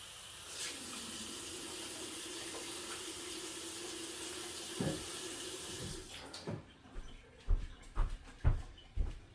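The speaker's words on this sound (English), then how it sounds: "I'm gonna start my water filling with the rest of this taco sauce." A kitchen tap runs water into a taco sauce bottle with a steady hiss for several seconds, then cuts off, followed by a few close clunks and knocks as the bottle is handled.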